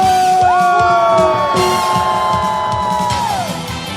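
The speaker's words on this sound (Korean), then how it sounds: "함성" A large crowd at a Korean candlelight protest rally roars with shouts, whoops and cheers, loud and sustained, with long rising yells standing out above the mass of voices.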